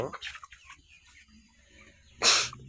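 Chickens in a poultry cage farm give a few short clucks and squawks, faint at first, followed by one loud, sharp burst near the end, with no speech.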